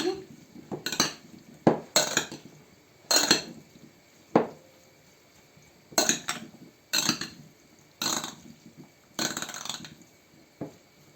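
A spoon stirs beans into a beetroot salad in a bowl, producing repeated clinks and scrapes in irregular bursts, close and distinct against a quiet background.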